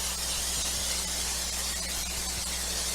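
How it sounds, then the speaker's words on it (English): Canola oil sprayed from a can onto a hot cast iron griddle before grilling shrimp, giving a steady, continuous hiss that holds level throughout at moderate loudness. "I'm just going to spray it with a little bit of canola oil to help the shrimp"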